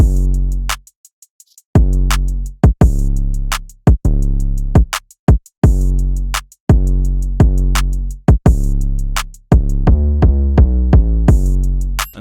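Heavy trap-style bass line from a beat, deep sustained 808-like notes pulsing in a steady rhythm with sharp clicks on top, loud and close, no talking.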